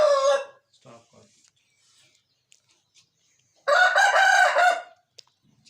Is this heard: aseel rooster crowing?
yes